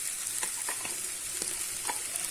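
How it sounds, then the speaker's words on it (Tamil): Washed dried anchovies dropped into tomato masala frying in a pan, a dense, steady hiss of sizzling oil with light stirring taps and crackles scattered through it, close up. "இப்போ நான் கழுவி வச்சு அந்த கருவாடை போட்டுறேன்."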